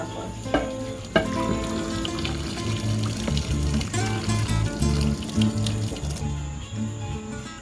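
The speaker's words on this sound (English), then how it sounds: "we're just going to strain off the water off of it and put it down to go in our pot" Boiled ackee being strained, water pouring and splashing into a sink with clattering pot and strainer noises, steady and close over a busy kitchen background.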